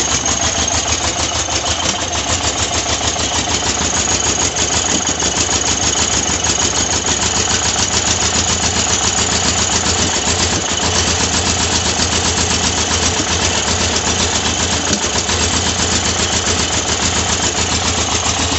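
A 1982 air-cooled VW Vanagon Westfalia engine runs at a steady, loud idle close up, its even rattling chug continuing unbroken and unaccompanied by speech.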